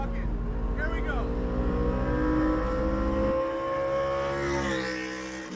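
A car engine revs and accelerates steadily from inside the cabin with windows up, harmonic tones climbing then dropping as the driver shifts; people talk over the engine noise.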